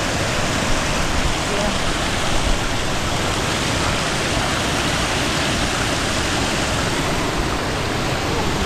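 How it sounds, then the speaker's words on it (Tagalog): Water roaring down Aliwagwag Falls in Cateel, Davao Oriental, a loud, dense, unbroken rush of falling water filling the whole scene at close range. "Hugog na tuloy yung tubig."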